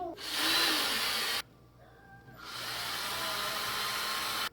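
A power drill whirs in two short bursts with a brief pause between, a loud, high-pitched buzzing spin close up, drilling a 3D-printed part.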